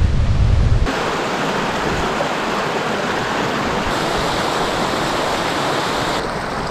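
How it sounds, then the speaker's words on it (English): A waterfall on the portage between Sucker and Bottle lakes in the Kawartha Highlands in February gives a steady, broad rushing roar of falling water, loud and constant, after a brief gust of low wind rumble at the start. "Go check out the falls."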